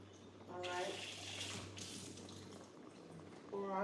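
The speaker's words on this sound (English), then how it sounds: "we're gonna pour off the juice" Juice being poured off canned vegetables into a sink, a steady close liquid pour and splash with a short break, while a person talks now and then.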